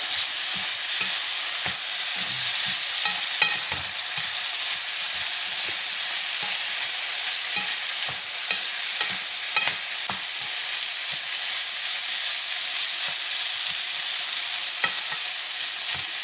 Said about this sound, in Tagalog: i-add natin yung masarap rice dito. Mix na siya natin yung gusto.